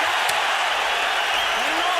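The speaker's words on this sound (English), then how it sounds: "Listen to this crowd" A large arena crowd roars at a boxing match between Canelo Alvarez and Matthew Hatton. The sound is a dense, loud, continuous wash of cheering voices that holds steady for the whole stretch.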